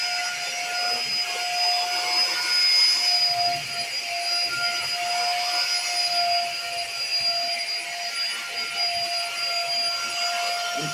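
A vacuum cleaner works across a living-area carpet with a steady, high-pitched whine and airy roar that stays constant for about eleven seconds, close and unbroken, with no talk over it.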